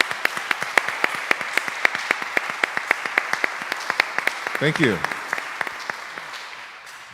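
Steady audience applause, many hands clapping in a fast, even patter, with a brief spoken thanks near the end before it fades.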